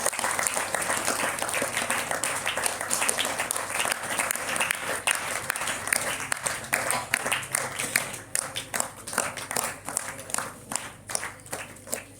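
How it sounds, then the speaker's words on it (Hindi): Sustained applause from a school assembly crowd at a youth village council event at JNV West Singhbhum, dense and continuous at first, then breaking into more distinct, rhythmic claps toward the end. "जोरदार तालियों से इस कार्यक्रम का अभिनंदन,"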